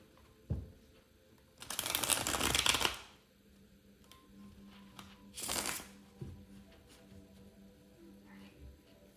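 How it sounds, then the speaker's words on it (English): Playing cards are shuffled in two brisk riffling bursts, close and crisp, with quiet handling noises between them. "One more shuffle."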